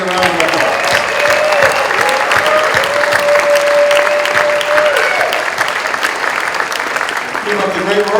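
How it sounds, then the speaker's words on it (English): At a San Diego press club awards night, the crowd gives the winners a steady, full round of applause lasting several seconds, with faint voices and tones woven through. "Give everybody a round of applause."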